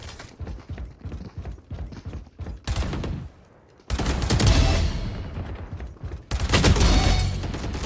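Valorant deathmatch gunfire: loud, rapid bursts of shots come in several clusters, with sharp cracks and brief pauses between volleys.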